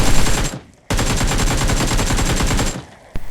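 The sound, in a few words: gunfire in a battle royale video game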